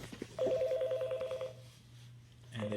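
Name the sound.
phone call being dialed on EMEET Bluetooth speakerphone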